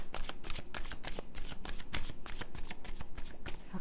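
Tarot cards shuffled in the hands during a reading, a dense run of quick papery riffling flicks and slaps, close and steady throughout with no talk.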